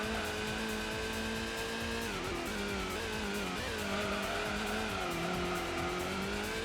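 A GTO race car with worn tyres slides and squeals through a turn in the Gran Turismo racing game at Grand Valley, with a steady engine drone, gear-shift pitch drops and continuous tyre scrub, loud with no talk.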